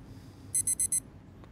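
A shrill electronic alarm from the horror game Obsideo gives four rapid high beeps in a row, loud and close. It drops out briefly and then comes back for a fifth beep.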